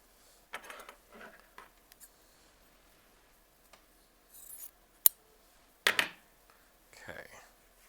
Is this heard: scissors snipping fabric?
yes